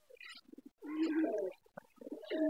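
Pigeons cooing close by in a loft, a run of low, throaty, rolling coos in short bursts, each swelling and fading, with no voices.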